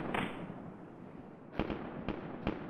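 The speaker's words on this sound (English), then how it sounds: "This is a new gun sound to me." A newly encountered gun fires in BattleBit Remastered, its sharp cracks coming as one shot followed by a cluster of three or four fairly distant reports over a low background rumble.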